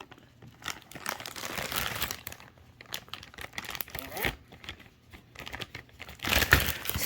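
A plastic zip bag of assorted Christmas candy being unzipped and handled, with crinkly, crackling rustles in uneven bursts close to the mic, a louder crinkle near the end, and a person talking over parts of it.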